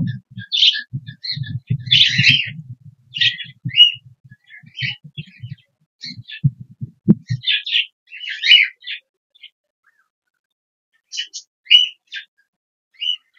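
Several budgerigars, pet budgies from one household kept with eggs in the nest box, chirp and warble in quick bright bursts close by, with low murmuring talk underneath for the first half and scattered calls after.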